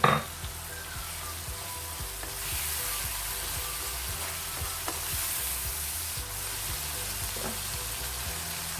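Chicken gizzards with turmeric powder stirred in a frying pan, a continuous bright sizzle with rhythmic low scraping strokes of the spoon across the pan, close and steady with no talking.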